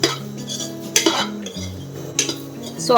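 A spoon scrapes and clatters against a pan while clam masala with turmeric is stirred and dry-roasted, repeated metallic knocks over a faint background hum.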